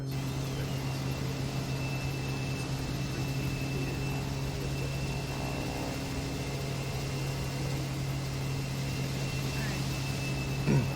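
Helicopter engine in Microsoft Flight Simulator, a steady droning whine with a constant hum underneath, heard close and even throughout.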